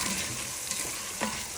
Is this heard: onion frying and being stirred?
yes